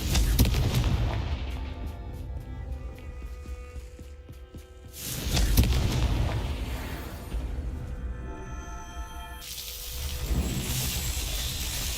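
Confringo explosion spell in a Harry Potter video game: two loud, broad fiery blasts about five seconds apart, each followed by a rumbling tail over a constant dense game background.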